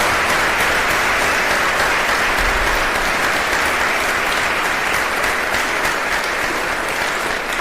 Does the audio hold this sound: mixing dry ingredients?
no